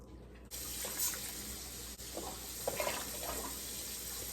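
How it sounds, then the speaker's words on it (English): Six cups of water poured onto three cups of rice in a pot for fried rice: a steady, moderately quiet stream of running water splashing throughout, with no talking. "And to that, we'll add 6 cups of water."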